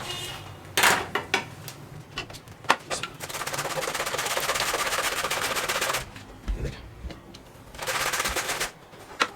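A knife chops salad vegetables on a cutting board, giving close, crisp rapid taps in quick bursts separated by short pauses and some handling clatter.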